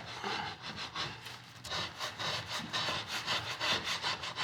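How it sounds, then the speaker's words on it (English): A square-edged scraper drawn across wood to strip paint, giving repeated rasping strokes in a steady rhythm, close and fairly loud with no talking. "it's an actual square edge that we're working on, which is giving us a nice clean scrape"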